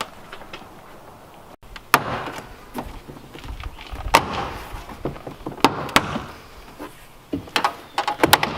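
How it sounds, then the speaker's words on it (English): Plastic clips pop loose as a door card is pried off a BMW E46 being built into an LS-swapped drift car, giving a series of sharp snaps and knocks at irregular intervals close by, with faint rustling between them. "And then the door panels just snap off."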